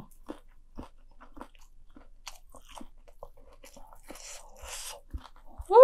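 Crunchy bites into a Takis and Cheetos coated mac and cheese ball crust, a handful of sharp close-up crunches spaced apart over quiet chewing.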